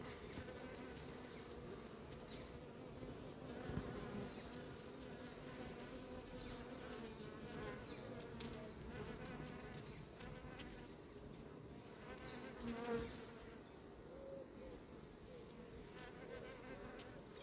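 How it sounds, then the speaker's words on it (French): A hornet buzzes steadily inside the sleeve of an anti-hornet trap tent at an apiary, a continuous close insect drone with small swells in loudness and no talking. "Frelon s'est fait capturer super vite."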